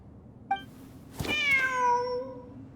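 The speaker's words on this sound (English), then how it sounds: "Wait, there it is! The cat!" A cat in the Genshin Impact video game gives a short, bright chirp, then a longer drawn-out meow that slowly falls away. Both calls are clear and close, with no voices over them.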